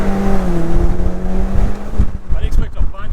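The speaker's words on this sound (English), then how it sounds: "The APR exhaust is quite refined from inside." VW Golf GTI fitted with an APR exhaust accelerating, heard from inside the cabin with the windows down: a steady, droning engine note with wind rush and some low rumbling bursts near the end.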